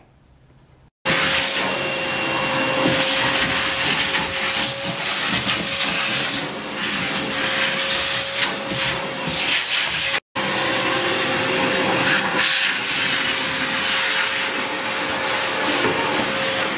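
A vacuum cleaner sucks up debris inside a 1957 Chevy after roof filler work. It starts abruptly with a loud, steady roaring whoosh and a constant whine, cuts out for an instant, then resumes.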